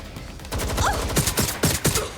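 Gunfire from above in the video game Watch Dogs Legion, a rapid series of sharp shots and bursts over a low rumbling background, loud and close, with a few distinct cracks spaced across two seconds.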